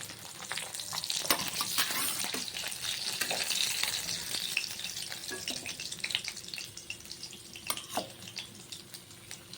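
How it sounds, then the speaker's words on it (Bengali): Black cumin seeds tempering in hot oil left from frying fish, a steady close sizzle and crackle with scattered sharper pops, continuing alone without talk. "ওই মাছ ভাজার তেলের মধ্যে আমি কালো জিরে ফোড়ন দেব"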